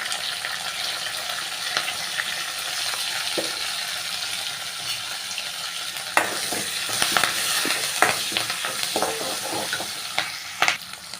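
About ten small onions with a few curry leaves and asafoetida sauté in oil, a continuous close hiss broken by scraping stirs and sharp clinks of a spoon against the pan, busier toward the end.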